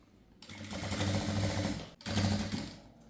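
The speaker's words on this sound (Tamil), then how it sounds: "இப்போ இந்த ரெண்டு நல்ல பக்கமும் ஒன்றா இருக்கிற மாதிரி வச்சு யாக்பட்டியை தைக்க போகிறோம்." An electric sewing machine stitching a blouse yoke patti, running in two loud, steady mechanical bursts separated by a brief pause.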